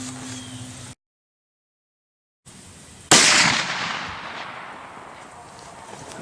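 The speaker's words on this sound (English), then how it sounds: "Much like shooting the 50 BMG, you feel that in your nose when it goes off." A single very loud .500 Magnum revolver shot cracks out after a brief silence, its boom decaying into a long rolling echo outdoors.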